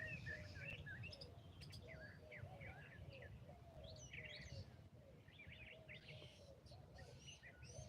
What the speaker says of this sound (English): Coo, coo. That's a turtle dove.